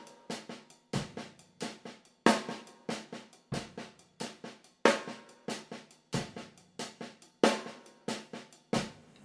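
Drum shuffle beat using a two-note snare triplet combination, crisp regular snare and kick hits repeating in a loping rhythm, played alone and close.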